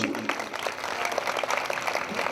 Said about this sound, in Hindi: जोरदार ताली बजाइए परमेश्वर